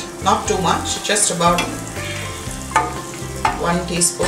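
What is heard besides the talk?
butter sizzling in a hot frying pan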